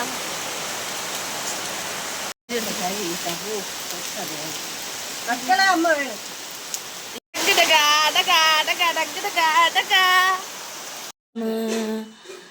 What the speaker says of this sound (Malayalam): നല്ല മഴ, മഞ്ഞ് മൂടി വരുന്നു.